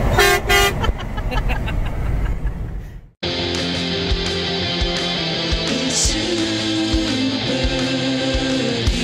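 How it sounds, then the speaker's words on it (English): Several loud, close car horn honks blare over road noise, first in short bursts, then a long sustained honk holding for several seconds. "Honk your horn."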